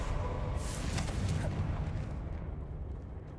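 A Confringo blasting spell explodes in Hogwarts Legacy: one loud, rumbling boom that rolls out and slowly fades, with a deep low roar trailing behind the blast.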